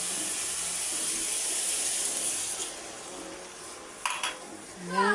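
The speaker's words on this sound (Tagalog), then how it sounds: "Lagyan natin ng tubig konti para lumambot ang ating sitaw." Water is poured into a pan of sautéed string beans (sitaw), making a steady, moderately loud splashing hiss for a few seconds that then fades into quieter kitchen clinks and a brief voice near the end.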